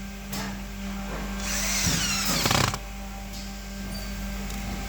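A power drill drives a screw into a cabinet hinge while a metal-framed multipurpose cabinet is assembled, giving one short whirring burst of about a second amid quiet room noise, with no talking.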